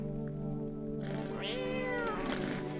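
A cat meows in the video game No, I'm Not A Human, giving one clear, drawn-out rising and falling meow over a steady tonal game hum, with no talk.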